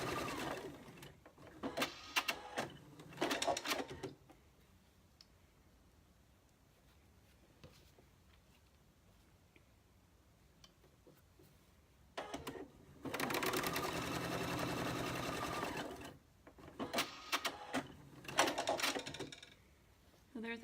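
A sewing machine stitches patchwork rows for a pin cushion with a quarter-inch seam allowance, whirring in several short bursts and one longer steady run, close and moderately loud, with quiet gaps and small handling noises between.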